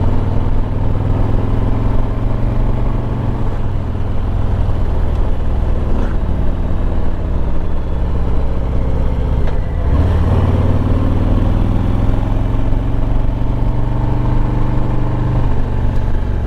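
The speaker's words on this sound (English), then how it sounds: "Exhaust note on the Milwaukee 8 is wonderful." A 2021 Harley-Davidson Road Glide Limited with a Milwaukee 8 engine rumbles steadily while riding, a loud continuous low exhaust drone with slight pitch shifts, alone without voices.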